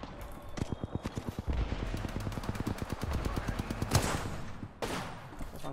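Apex Legends gunfire: rapid, evenly spaced automatic shots fire in long close bursts, with a short pause and a final few rounds near the end.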